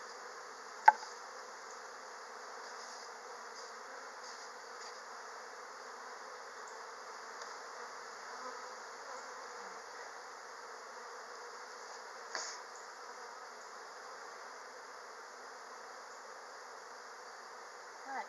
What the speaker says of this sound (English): Alright, so there are a lot of bees here.